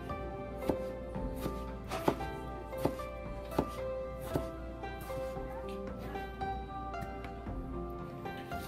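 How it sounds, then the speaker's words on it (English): A knife slices through tomato on a cutting board, giving a series of sharp, irregular taps about once a second over a low background hum and faint music. "Then cut like this. Then cut it. Slice it."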